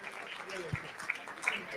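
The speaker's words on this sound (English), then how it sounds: "Shankar deserves a round of applause and a dinner." A banquet crowd at a fund launch event in Cerritos, California applauds, a soft steady spatter of many hands heard from across the room, with faint chatter underneath.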